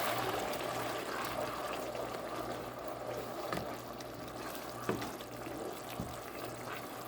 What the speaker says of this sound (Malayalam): ഈ ഒരു സമയത്ത് നമുക്കിതിലേക്ക് ആവശ്യത്തിനുള്ള ചൂടുവെള്ളം ഒഴിച്ചു കൊടുക്കാം.